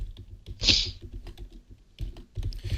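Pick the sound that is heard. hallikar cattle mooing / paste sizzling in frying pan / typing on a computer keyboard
typing on a computer keyboard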